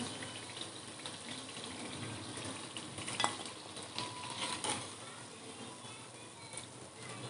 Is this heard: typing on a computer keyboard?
no